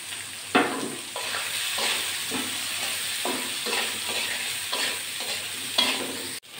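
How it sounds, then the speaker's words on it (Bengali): Potato, onion and garlic fry and crackle in a pan for a bottle gourd and egg dish, with steady close sizzling and repeated rhythmic scrapes of a spatula stirring through. "আলু পেঁয়াজ রসুনটা একটু ভেজে নিয়েছি।"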